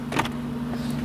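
A car's passenger-side glove box pops open with a single short click close by, followed by a steady low cabin hum.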